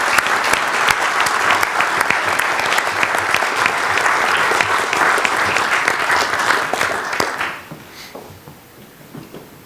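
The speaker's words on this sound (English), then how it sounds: "how about another round of applause for these award winners?" Hearty applause from a conference audience for award winners at a CEO leadership event, dense clapping with crisp individual claps, steady for about seven seconds before tapering off quickly into near quiet.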